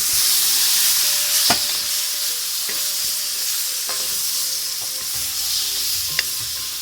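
Meat rubbed with turmeric and salt goes into a hot pot and sizzles steadily and close up, with scattered sharp clicks of stirring and utensils against the pot.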